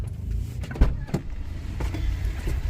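Honda Civic FC5 locking itself with keyless entry while its side mirrors fold in, a brief click followed by a short motorized whir over a low idling hum, close by.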